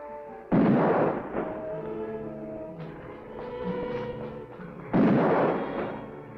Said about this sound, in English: Just randomly firing.